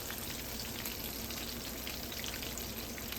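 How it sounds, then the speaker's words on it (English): Steady crackling sizzle of king fish frying in hot oil, even and continuous, with soft pops scattered throughout. "the oil has calmed down a bit. It's not sizzling as much"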